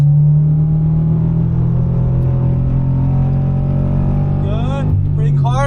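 A Subaru BRZ track car's engine drones loudly and steadily on a racetrack, close and continuous, with a quick rising and falling rev swing near the end as it comes off the power.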